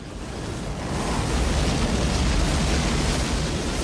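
Violent tornado winds of 443 km/h sweep a highway, a loud, roaring rush of air that swells and stays at a constant, dense, broadband level with no voices.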